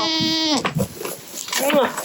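Goats on a family goat farm in the Kherson region of Ukraine, kept for cheesemaking, bleat loudly and close by in a couple of wavering calls, with speech mixed in between them.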